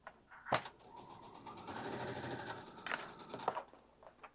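A sewing machine stitches regular piping onto a quilted tote, a steady mechanical whir running through most of the clip, broken by a few sharp clicks and clacks near the start and end.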